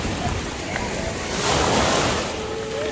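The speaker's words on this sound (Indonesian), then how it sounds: "Ombaknya ngeri nih." Ocean waves at Balekambang beach in Malang roll in as a loud, continuous surf roar, swelling midway as a wave breaks, with wind buffeting the microphone.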